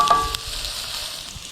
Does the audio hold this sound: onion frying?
yes